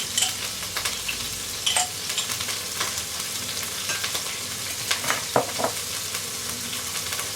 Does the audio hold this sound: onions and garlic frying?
yes